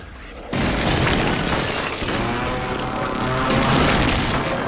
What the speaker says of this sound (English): Watch that airstrike near your location.